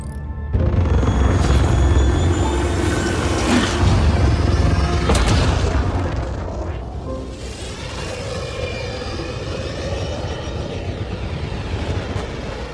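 The starship Tempest departing in Mass Effect Andromeda gives a loud, sustained low engine roar with a heavy boom near the start. It settles into a steady rumbling thrust that carries on without speech.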